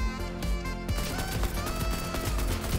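Rapid AK rifle bursts in Fortnite's Heavy Metal mode, with repeated sharp cracks that grow denser after a short opening, loud and close over a busy game soundscape with music.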